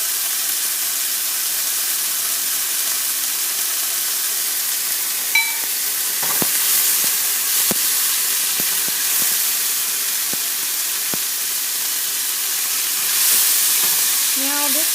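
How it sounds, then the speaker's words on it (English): Vegetables sauté in a pan on high heat with a constant loud sizzle and hiss, broken by occasional scraping stirs and clicks close up. "You want to have it on high while you're sauteing."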